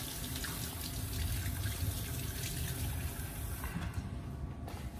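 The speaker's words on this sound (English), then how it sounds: "Wash my hands." Water running steadily from a kitchen tap while hands are washed, a soft continuous rushing and trickle at low level that thins out briefly near the end.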